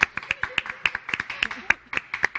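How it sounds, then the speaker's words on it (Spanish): Applause for a guest in a TV studio, brisk overlapping hand claps from a small group in a quick, steady rhythm, close and lively, with a voice heard faintly underneath. "Un aplauso para ella."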